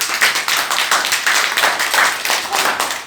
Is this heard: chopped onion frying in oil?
no